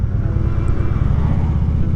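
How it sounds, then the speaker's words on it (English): A Harley-Davidson Road King Classic motorcycle engine runs close by with a loud, steady low rumble and throbbing pulses, alone throughout. "I love the sound of the engine."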